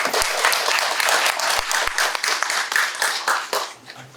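A conference audience applauds a speaker at a National Assembly Library colloquium in Seoul, with a dense burst of many hands clapping close and steady. It fades out near the end with no talk over it.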